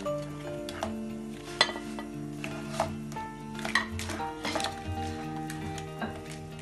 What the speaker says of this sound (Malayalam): ഇപ്പോ ഈ വറുത്തു വെച്ചിരിക്കുന്ന ചിക്കൻ കഷ്ണങ്ങൾ നമുക്ക് അതിലേക്ക് മെല്ലെ ഇട്ടു കൊടുക്കാം